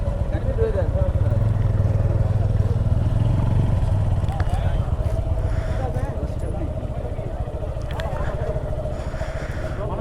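Motorcycle engines rumble steadily at a crowded bike gathering, with a continuous mid-pitched drone that fills the whole stretch. Nearby voices and crowd chatter run underneath.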